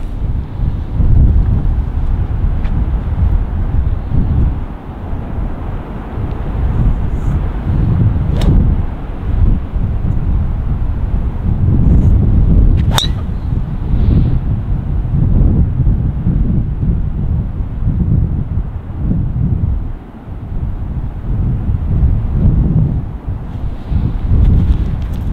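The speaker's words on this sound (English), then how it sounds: "I'm right into the teeth of the wind." Strong gusting wind buffets the microphone on a seaside golf links course at Royal Portrush, a loud, continuous low roar with rising and falling surges and no clear speech.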